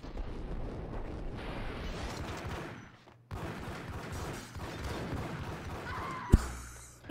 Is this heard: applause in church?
no